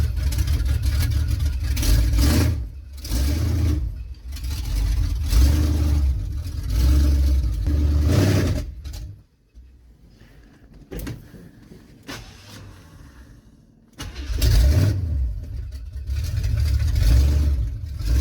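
A Chevrolet Suburban engine with a carburetor problem revs in loud bursts when given throttle, cuts out and goes near silent in the middle, then surges back up.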